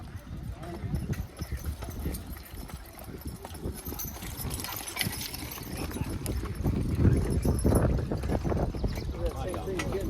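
Horse team hooves clip-clopping at a horse pull in Arcade, New York, a steady stream of hoof beats on the ground under ongoing announcer talk and crowd voices.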